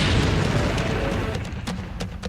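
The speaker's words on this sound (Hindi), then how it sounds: "यह धमाका पश्चिमी यूक्रेन के लीव शहर में हुआ" A drone explodes near a national monument in Lviv, western Ukraine, with a loud, close, rumbling blast that rolls on briefly and then fades, with a few sharp crackles near the end.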